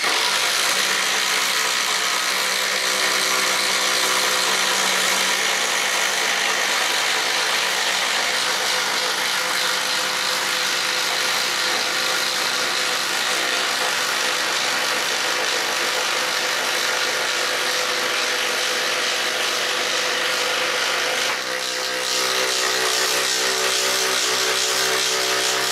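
Makita XDT15 and DeWalt compact impact drivers run side by side driving a 1-inch fastener, a continuous loud whirring and rattling hammer buzz that holds steady for over twenty seconds, with a brief shift near the end as one tool finishes.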